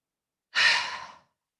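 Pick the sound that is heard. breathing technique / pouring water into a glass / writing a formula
breathing technique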